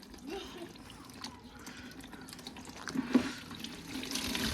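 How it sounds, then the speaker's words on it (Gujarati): Water gurgles and trickles into a balloon close by, with soft splashing and a brief squeaky rubbery sound near the end. "જો ફુગામાં પાણી ભરે કાં આયુષભાઈ"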